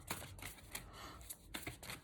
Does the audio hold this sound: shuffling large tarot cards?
yes